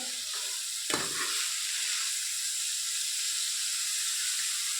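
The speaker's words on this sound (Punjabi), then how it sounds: "ਵਿੱਚ ਆਪਾਂ ਮਟਰ ਪਾ ਲਾਂਗੇ ਆਪਾਂ ਇਹਨੂੰ ਭੁੰਨਾਂਗੇ ਚੰਗੀ ਤਰ੍ਹਾਂ" Peas sizzle steadily in a hot pan while being roasted for an eggplant and pea curry, with a brief stirring scrape near the start; the frying hiss is close and continuous, with no talking.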